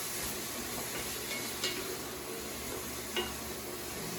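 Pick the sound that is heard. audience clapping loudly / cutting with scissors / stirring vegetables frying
stirring vegetables frying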